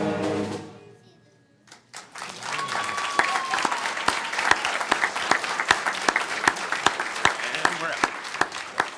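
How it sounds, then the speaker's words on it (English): A large audience applauds student performers at a school board meeting. The end of a music performance fades out, then steady, dense clapping swells up and carries on with a few sharp individual claps standing out. "If we can give them another big round of applause."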